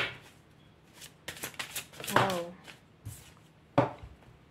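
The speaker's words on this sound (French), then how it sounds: "Je vais vous tirer une dernière carte." Tarot cards are shuffled and drawn, with quick papery riffles and soft slaps of cards in bursts, close up, between pauses and a brief murmur of voice.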